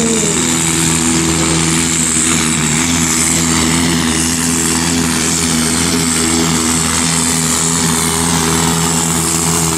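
Loud, continuous engine roar of a 3.4 supersport promo vehicle at full volume, heavy and sustained throughout with no speech.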